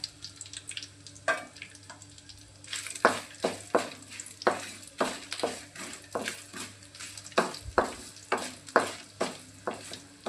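Dried red chillies frying in oil for dondakaya ullipaya karam, a steady low sizzle broken by repeated rhythmic scrapes of a spoon stirring in the pan, close by with no talk.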